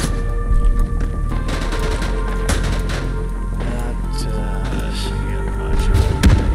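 Loud, sustained gunfire from the World War I video game Isonzo, with rapid bursts and booms blending into a dense, continuous barrage and a heavier flurry of shots near the end.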